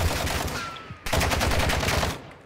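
Rapid automatic gunfire from a Call of Duty Warzone match, loud and close, with dense bursts that briefly dip near the one-second mark and then resume before tapering off.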